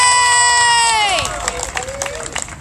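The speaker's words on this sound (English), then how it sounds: "Please give her a round of applause." A sustained whistle-like tone slides down into a lively rally crowd cheering and shouting, loud and close, with some scattered clapping.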